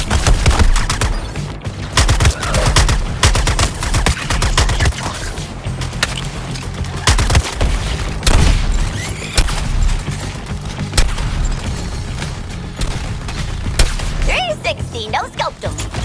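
Dense, loud gunfire in the video game Suicide Squad Kill the Justice League, rapid bursts and sharp shots with booms running continuously under game sound.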